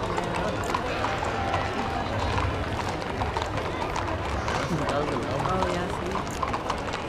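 Horses in a Western heritage parade and cattle drive, ridden side saddle, their hooves clip-clopping amid a busy outdoor crowd while people chat nearby.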